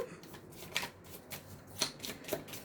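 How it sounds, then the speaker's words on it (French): Tarot cards being shuffled and drawn, heard as several close, quiet bursts of riffling and flicking card noise at irregular intervals. "Je vais prendre une carte des tarots des énergies."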